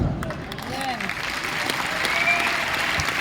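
Sustained audience applause from a large crowd at an RCM event in Delhi, steady and dense throughout with a faint voice heard over the clapping.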